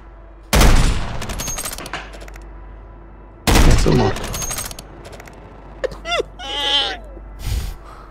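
Two loud bursts of sniper gunfire in a video game with a sharp attack and decaying rattle, separated by a few seconds, followed by brief whooshing and warbling game effects.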